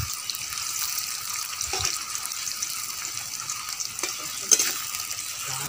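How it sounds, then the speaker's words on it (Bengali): Chopped onions frying in oil for a goat-fat chicken curry give a steady, close hiss, with occasional scrapes and clinks of a spoon stirring in the pan and no talk. "আমি কুচিয়ে রাখা দুটো পেঁয়াজ তেলের পরে দিয়ে দেব। পেঁয়াজটা ভালো করে ব্রাউন কালার করে ভেজে নিতে হবে।"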